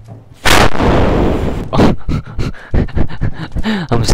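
Dog yelps and panting after being punched in the Fallout 4 video game; a loud burst opens, followed by a string of short, sharp yelps and whimpers, with a heavy impact-like thump among them.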